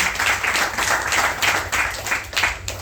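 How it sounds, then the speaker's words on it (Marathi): Students at an orphanage and old-age ashram in Lasalgaon clap together to welcome a family at a child's first birthday. The clapping is loud, close and rhythmic, coming in regular surging waves from the group. "सर्वांचं एकदा आश्रमातल्या विद्यार्थ्यांनी टाळ्या वाजून एकदा स्वागत करायचं"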